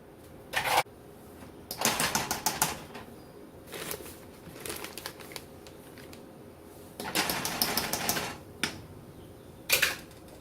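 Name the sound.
whisking flour into heated orange juice sauce in saucepan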